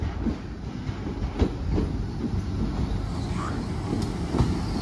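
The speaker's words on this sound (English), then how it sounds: "Trains are coming." Rumbling train noise rolls steadily throughout on the Cotswolds Line, a continuous low roar with faint rhythmic wheel clatter, fairly close and loud.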